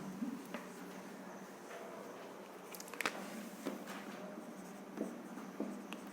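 A pen or marker scratches out a maths question on a board or paper, a close, quiet scritching with small taps and strokes in an irregular rhythm.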